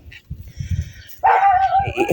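A dog in a yard barks at a neighbour, giving a few close barks and a whining yip after a stretch of low thumping.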